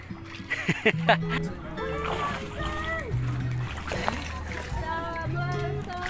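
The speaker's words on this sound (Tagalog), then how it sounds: "Ayan si Papa sasaguan." A father paddles a small boat out on open water, with splashes and sloshing strokes under steady talk and a voice, plus a continuous hum like a motor running nearby.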